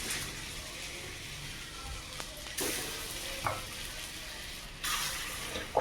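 Jackfruit kofta balls fry in a shallow layer of oil with a steady, soft sizzle throughout, interrupted by a few brief splashy bursts as the balls are turned or more are added.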